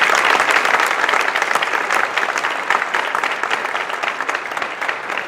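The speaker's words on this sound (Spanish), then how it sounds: "un aplauso también para ellos" A conference audience claps for a lecture on the mystery of Erks, a dense steady applause that fills the room and eases slightly toward the end.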